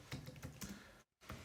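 Typing on a computer keyboard, quick soft key taps in a brief burst, a short pause, then more taps, close and quiet, with no talk.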